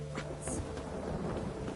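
Heavy rain hisses steadily in The Witcher 3 video game, with a low thunder rumble rolling underneath and a brief brighter spatter partway through, with no voices.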